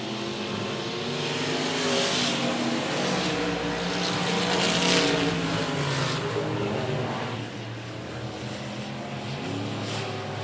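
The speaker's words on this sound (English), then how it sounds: "Thorne rocking that Dust Devil chassis right around the bottom of the tires in 1 and 2" Dirt track race car on a Dust Devil chassis at 105 Speedway, engine roaring steadily and loud as it runs low around the tire barrier through turns one and two, with other cars droning behind.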